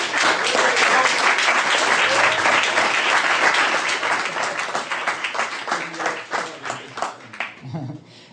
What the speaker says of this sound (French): qu'on peut applaudir bien fort.